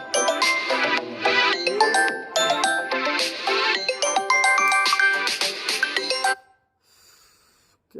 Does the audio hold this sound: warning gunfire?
no